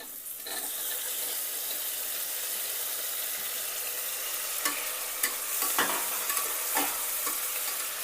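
Tomato goes into sputtering upma seasoning in a pan: a continuous near sizzle with scattered spoon taps and stirring scrapes in the second half, no talking.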